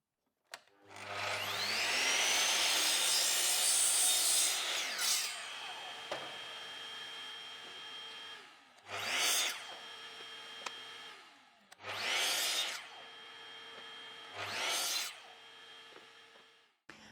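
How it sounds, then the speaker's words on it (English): Glued plywood blocks are sanded by hand: one long, loud abrasive rub followed by three shorter, fainter scrubbing strokes separated by quiet gaps. "sanding them by hand is a much safer method."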